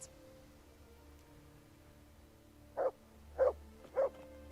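Dog barking in the medieval video game Kingdom Come: Deliverance, three short separate barks spaced about half a second apart over a quiet background hum.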